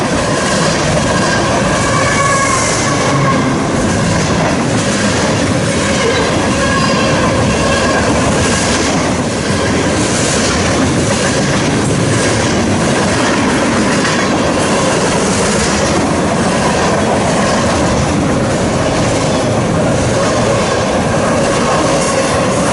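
A Union Pacific freight train of loaded auto racks with a mid-train locomotive rolls past close by in Fairbury, Nebraska, loud and continuous, with rhythmic clattering wheels and occasional metallic squeals over a steady rumble.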